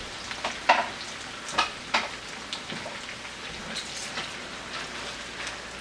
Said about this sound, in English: I'm going to take our pasta, add it in.